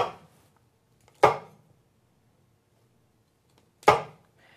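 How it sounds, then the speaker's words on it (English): Two sharp, crisp snaps a few seconds apart, close up, with quiet between them, as broccoli florets are broken off by hand. "So I'll just take a few florets off."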